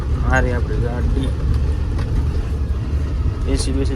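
Inside a moving car on a road through the Kutch desert, a low engine and road rumble runs steadily while someone talks over it.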